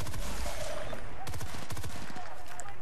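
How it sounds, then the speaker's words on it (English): M16 assault rifle firing bursts in Battlefield Bad Company 2, with rapid clustered shots in quick groups over a noisy battlefield background, while someone talks over the gunfire. "you can see that I can shoot the M16 like any other assault rifle"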